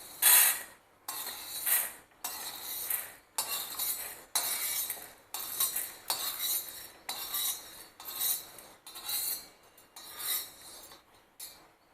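Dry-roasted sago pearls are scooped from a pan onto a plate, a near, steady run of scraping and clinking strokes repeating about once a second for a long stretch.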